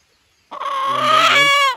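A single loud crow from a young Nati Koli rooster, seven to eight months old, close by, rising and holding before cutting off, after a moment of silence.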